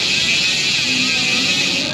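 A Tanki TH240 bicycle hub on a 29er wheel freewheeling, giving a dense, steady, loud buzzing whir that runs without a break for about two seconds.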